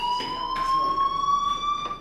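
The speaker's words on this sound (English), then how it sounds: "do you hear that fire alarm?" Fire alarm in the video game Life is Strange, a steady electronic tone with high harmonics ringing continuously, fairly loud, with faint background noise and no talking.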